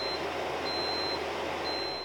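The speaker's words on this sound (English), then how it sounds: "The machine will beep when the preheating is done." A Breville Pizzaiolo pizza oven signals that preheating is done: an intermittent electronic tone of three short beeps heard over a steady broadband hiss, moderately loud and close, with no talk.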